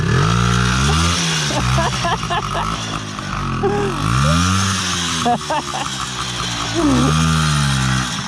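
An Izh Planeta 5 motorcycle engine with a ticking carburetor runs loud and close, its note repeatedly rising and falling as it revs, with voices over it.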